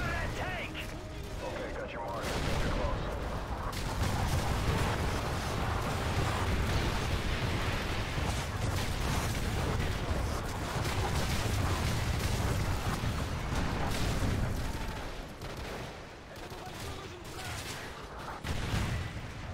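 Gunship firing in Modern Warfare 3, a dense continuous barrage of heavy gunfire and booming impacts that swells and persists for nearly twenty seconds, loud and broadband with no speech.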